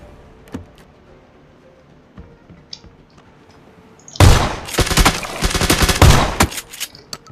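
Gunfire in the battle royale game PUBG: a few faint distant shots, then a loud close burst of rapid sustained automatic fire that keeps rattling to the end.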